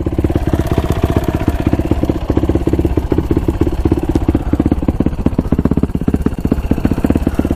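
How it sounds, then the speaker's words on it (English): A motorcycle engine runs steadily, close and loud, with a fast, regular ticking clatter riding on the idle throughout; the tick may come from near the clutch or exhaust pipe. "It's running good. It does have that little tick to it though."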